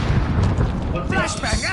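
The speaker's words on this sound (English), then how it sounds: "Frag out!" A frag grenade detonates in a PS4 shooter, with a dense, sustained rumble of in-game combat filling the whole moment and chatter layered over the chaotic battle noise.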